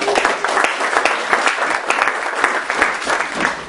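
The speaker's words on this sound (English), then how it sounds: "Dr. Craig Byford, give him a round of applause." A crowd claps steadily for a few seconds, dense and even applause filling the room.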